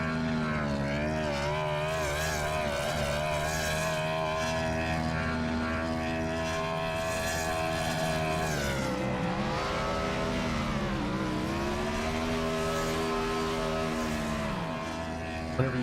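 Race car engine in the iRacing sim roars steadily at high revs through burnouts after a win at Daytona International Speedway, with pitch sweeps rising and falling around the middle, loud and alone.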